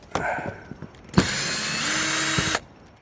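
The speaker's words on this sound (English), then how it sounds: "We're sitting here trying to pull screws out." A power drill pulls screws out of a metal roof panel on a bathhouse: a couple of short clicks and rattles, then a loud sustained whirring run of about a second and a half that cuts off abruptly, recorded up close.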